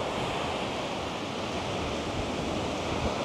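Big ocean waves crash and roll onto Boracay beach in a steady, loud wash of surf, with wind noise on the microphone and no voices.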